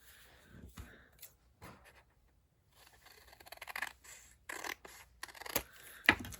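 Scissors trim paper for a layered pocket insert. A few quiet, separate snips and rustles come close up, with pauses between them and brief soft talk.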